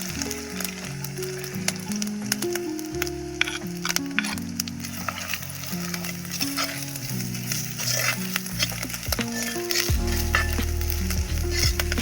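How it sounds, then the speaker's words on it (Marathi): Grated coconut sizzles and fries steadily in hot ghee, likely over a wood-fired stove while making modak, with a continuous crackling hiss up close and a low musical backing underneath. "तूप तापल्यानंतर आपण खोबऱ्याचा किस टाकणार आहोत."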